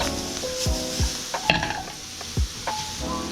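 Leftover vegetables sizzle and fry in a pan over medium-low heat, a steady crackling hiss broken by several sharp metallic clinks and scrapes of a utensil stirring against the pan.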